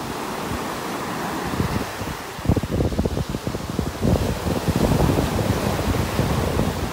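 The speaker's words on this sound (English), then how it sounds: "Still lots of waves this morning." Ocean waves roll onto the beach at the south end of a North Naples park on a morning during a red tide, a loud broad wash with rising surges of breaking surf, mixed with wind noise on the microphone.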